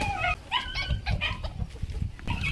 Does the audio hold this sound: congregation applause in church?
no